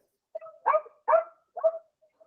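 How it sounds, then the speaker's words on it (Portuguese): A small dog barks in the background, four short yappy barks spaced about half a second apart, fairly faint and distant, with no talking over them. "Tem um cachorrinho latindo aí, não sei aonde."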